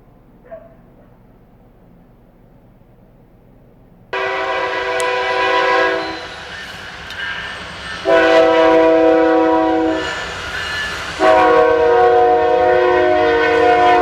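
A train rumbles past while its horn blows in long, loud blasts, several separate honks over a continuous mechanical roar.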